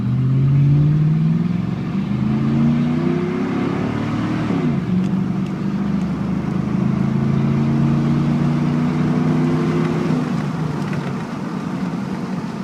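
A pickup truck engine revs and accelerates hard from a standstill to 60 mph, a loud, continuous rising drone with a clear shift partway through before climbing again, steady and close with no talk over it.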